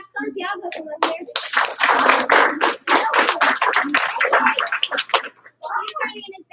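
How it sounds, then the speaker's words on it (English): A group of children and adults in a class claps, first a single clap and then a double clap, sharp hand slaps mixed with voices speaking over and between them. "One clap. Two claps."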